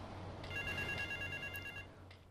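An in-game telephone rings in GTA Vice City, a steady electronic trill lasting over a second over a low background hum.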